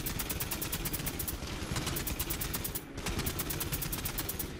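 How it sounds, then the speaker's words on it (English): Rapid, evenly spaced weapon fire from a mortar and rail shot in the online game Gigantic, sharp repeated bursts in a steady rhythm with a brief pause midway, loud and close. "Here is the mortar, and my right click is the rail shot"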